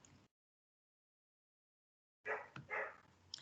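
A pet dog indoors gives a short run of close, sharp barks after a stretch of silence, the yaps coming in a quick uneven burst.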